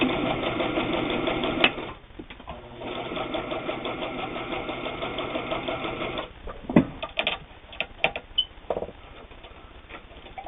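A Janome New Home Double Duty sewing machine stitches with a fast, steady mechanical whir up close, pausing briefly, then running in shorter bursts with clicks and handling knocks between.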